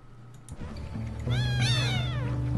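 Kittens meow in the video game Shelter 2 with a couple of high, rising and falling cries, close and clear over a low, steady background hum.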